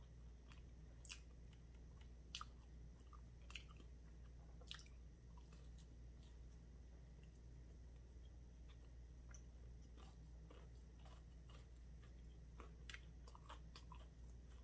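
Crunchy bites and chewing of a Popeye's Cajun flounder sandwich eaten cold straight from the package, sharp crisp crackles recurring every second or two close to the mic over a low steady hum, with no talking.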